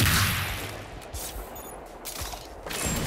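Sniper rifles fire in the video game Destiny 2, with a few sharp, punchy shots spaced apart over a rumbling background of game ambience.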